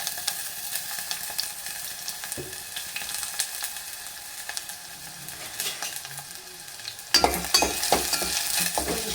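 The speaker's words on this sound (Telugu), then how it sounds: "ముందుగా తరిగి పెట్టుకున్న ఉల్లిపాయలు అల్లం ముక్కలు పచ్చిమిర్చి ముక్కలు అయితే వేసేస్తున్నాను" Chopped onions, ginger and green chillies fry in a pan under a steady close sizzle, with a spoon scraping and stirring throughout and a louder burst of sizzling near the end.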